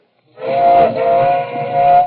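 A sustained, breathy whistle with steady tones, sounding like a small toy train whistle blowing for about two seconds, fairly loud and close.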